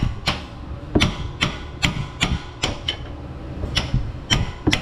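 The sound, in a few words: hammering on a socket wrench extension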